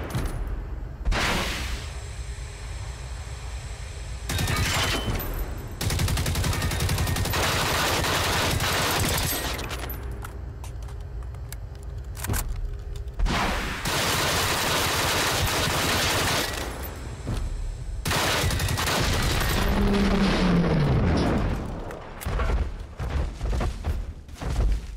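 Sustained automatic gunfire aimed at an enemy tank in the video game FNIX, loud rapid bursts broken by brief pauses, with game effects and a low boom mixed in.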